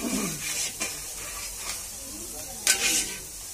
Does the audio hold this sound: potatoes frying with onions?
yes